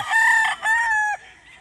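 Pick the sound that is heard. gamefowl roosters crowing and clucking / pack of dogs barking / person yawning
gamefowl roosters crowing and clucking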